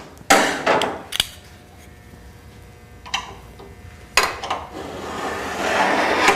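Glue is scraped and cleaned off the track of a CS-1 sifter being rebuilt, giving sharp scraping and knocking bursts, a few loud hits spaced out between quieter rubbing.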